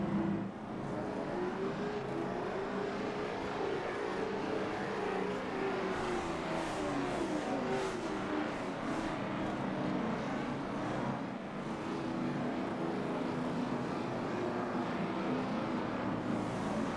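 Race cars lap a short oval track at New Smyrna in an ASRL late model event, engines droning and rising as they circle past at a distance, continuous with no commentary.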